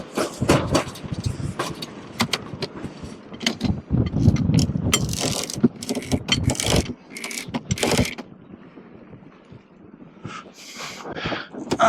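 A sailboat winch ratchets in rapid bursts of clicking as the sheet is tightened after an automatic tack, loud and close, with pauses and wind or rustling between the runs.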